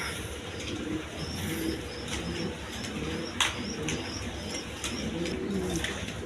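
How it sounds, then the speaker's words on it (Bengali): A pair of racer pigeons coo softly and repeatedly at close range over a steady background hum, with occasional faint chirps from other birds. "এখানে এক পেয়ার রেশার কবুতর আছে"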